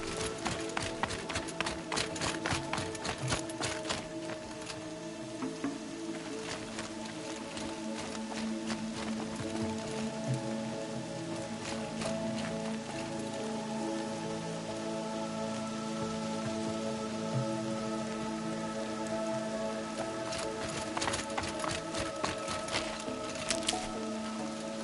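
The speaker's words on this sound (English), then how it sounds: "More rain. My boots will get damp." Steady rain falls in Horizon Zero Dawn, a continuous patter of drops on surfaces with brief crackles, even and moderately quiet throughout, with no voices.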